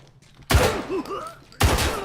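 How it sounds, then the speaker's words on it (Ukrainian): Two heavy bursts of gunfire in the video game Arena Breakout Infinite, about a second apart, loud and close, with a brief quieter stretch between them. "я з переляку почав стріляти"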